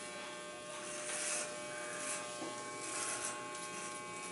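Electric hair clipper with a 0 guard buzzing steadily while shaving a fade, a close, constant high-pitched hum with slight swells as it moves over the hair.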